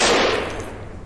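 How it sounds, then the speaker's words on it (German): One loud, close crack from a carbine in the video game DayZ, with a rapid burst or echo that tails off within about a second. "der hat zwei Schuss damit gemacht. Wie schlecht ist denn dieser Karabiner?"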